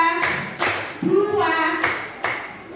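A class of children at an Indonesian primary school claps on cue, a few sharp, separate hand claps spaced across a couple of seconds, with a child's and an adult's voice speaking between them.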